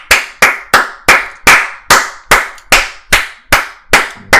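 About eleven loud, sharp hand claps, close and isolated, struck at a slow, even beat roughly every 0.4 seconds with brief decays between them.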